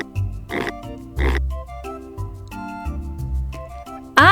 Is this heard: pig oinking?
yes